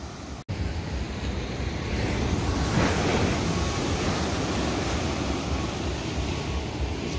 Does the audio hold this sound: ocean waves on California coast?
yes